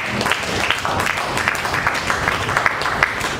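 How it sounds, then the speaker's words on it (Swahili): A church congregation applauds together during a prayer service, a steady wash of clapping that holds evenly throughout without pause. "Pesa makofi yako."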